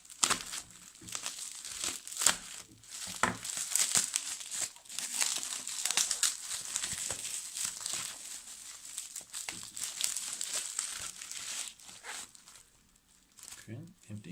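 Cardboard and plastic packaging crinkles and rustles up close as a Victorinox Swisstool Spirit X MXBS box is opened, with irregular crackles and tearing under quiet background sound.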